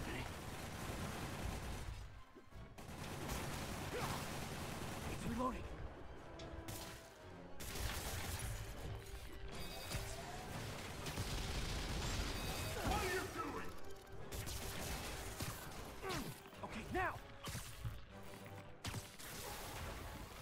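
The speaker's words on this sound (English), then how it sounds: "Oh shoot, machine guns." Machine gun fire and crashing combat sounds from Marvel's Spider-Man Remastered, a dense, loud stretch of rapid shots and impacts with brief lulls, under a player's talk.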